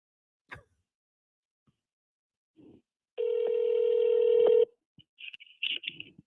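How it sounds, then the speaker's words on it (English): Telephone keypad tones ring out as a phone call is dialed: a few scattered clicks, then one long steady dial tone, followed by quick DTMF beeps, loud and close with no talking. "You guys love me making a phone call."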